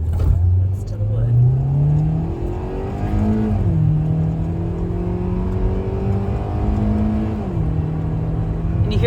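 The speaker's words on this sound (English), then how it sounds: "We're gonna do a 0 to 60 to show the 147 horsepower that this thing has." A 2018 Hyundai Elantra with 147 horsepower accelerates hard from 0 to 60, its engine note climbing steadily through the gears with clear upshift drops, loud and continuous for about nine seconds.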